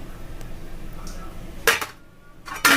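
A spoon clanks against a pot of drumstick curry during stirring, with two loud metallic scraping bursts after a quiet simmering stretch.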